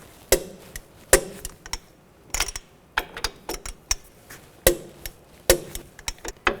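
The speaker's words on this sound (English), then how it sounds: "Now I'm going to torque these nuts to 89 foot-pounds." A torque wrench tightening strut nuts on a 2005-2010 Chevy Cobalt front strut assembly, sharp metallic clicks and knocks in irregular bursts, close by with no talk.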